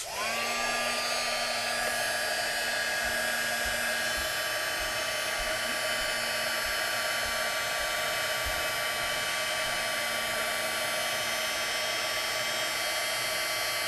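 A heat gun blows steadily while shrinking a hot plastic charm, a constant loud whooshing roar with a faint high whine that runs unbroken the whole time, with no talking over it.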